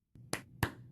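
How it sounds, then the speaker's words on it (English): Two sharp hand claps, evenly spaced and fairly faint, meant to trigger a Clapper sound-activated light switch, heard alone against near silence. "Clap on, clap off."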